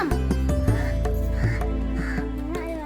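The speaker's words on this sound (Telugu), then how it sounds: "మేము ఇంకా వంటలన్నీ పూర్తి చేయకముందే రెడీగా వచ్చేసింది ఒక కాకి" A crow caws repeatedly nearby, harsh loud calls in a broken series over a low background hum, with no speech.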